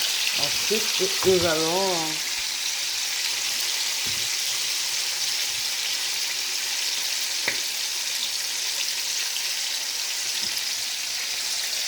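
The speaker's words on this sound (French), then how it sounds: "Nous allons remuer." Potatoes and chicken fry in a pan with a steady, close sizzle as they are stirred, a few soft scrapes and taps breaking through; someone speaks briefly at the start.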